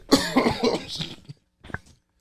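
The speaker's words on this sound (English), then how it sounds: "when I press record, I want to cough now." A burst of close, harsh coughing with a throat-clearing edge, followed by a brief pause and one or two shorter coughs.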